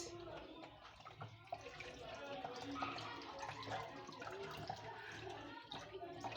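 Running water rinses a bitter gourd, a steady close splashing and trickling hiss that goes on without pause, with a few soft handling noises and no talking.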